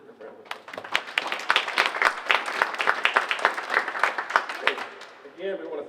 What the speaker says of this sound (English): Let's give Trish a round of applause